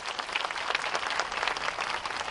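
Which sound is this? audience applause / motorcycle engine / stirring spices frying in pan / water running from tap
audience applause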